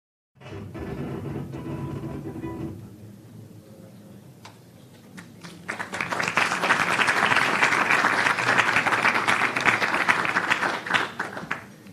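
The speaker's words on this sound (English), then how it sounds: "Gracias por el aplauso." Audience applause at a mangrove conservation talk about the Gulf of Morrosquillo, with lighter, scattered clapping at first, then swelling into dense, sustained clapping that fills the room until the end.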